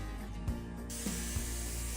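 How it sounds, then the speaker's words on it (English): A paint spray gun sprays water-thinned creamy white paint in a test pass, a steady hiss that swells partway through over a low mechanical hum, with a few soft clicks. "Testing out my sprayer settings, just to make sure I have my paint thinned properly and my spray gun is set up all proper."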